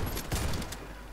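Gunfire in a Chernobyl-themed shooter game: a quick cluster of close, punchy shots in rapid succession that fades out within about a second.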